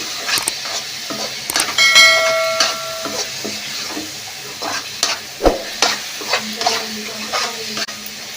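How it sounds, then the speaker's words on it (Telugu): Cashews and raisins being stirred into carrot halwa in a pan, with a spoon scraping and clinking steadily against the metal over a soft sizzle, close and alone without talk. "ఇప్పుడు కొద్దిగా కిస్మిస్ వేసుకున్నాము. ఇప్పుడు బాగా కలబెట్టుకోవాలి."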